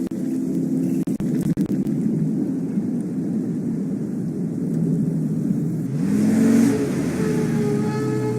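A car cruising along in the game Life Is Strange: a steady low engine rumble with rain-like wash and a few bumps, then a brief swell as it slows near the end; no talking.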